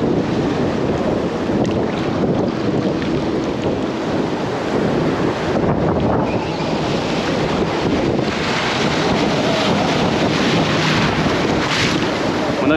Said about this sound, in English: Those big waves come, you got to pretty much jump them.